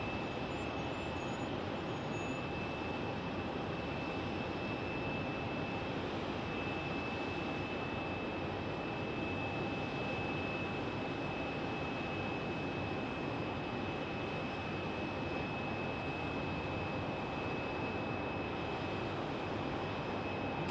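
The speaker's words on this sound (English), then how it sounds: "Frontier on an A321 Neo is coming in from Las Vegas." Frontier Airbus A321neo jet arriving at Phoenix Sky Harbor from Las Vegas, a steady, even engine roar with a faint high whine running the whole time, fairly distant and unchanging, with no talk.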